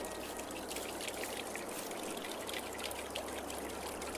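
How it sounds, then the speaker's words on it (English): Running water trickles steadily from a brick and stone well in Farming Simulator 22, a soft continuous stream of dribbling and splashing that holds at an even level throughout, with no voices over it. "They have got running water in there with sound effects."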